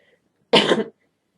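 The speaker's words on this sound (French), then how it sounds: "Excusez-moi, j'ai une petite toux" A single short, harsh cough, close and loud, breaks an otherwise silent moment.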